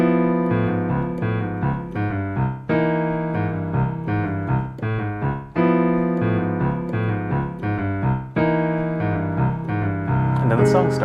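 Solo piano playing the intro to a jazz standard: rich sustained chords moving in a slow, rolling phrase, close and full, ending on a bright flourish.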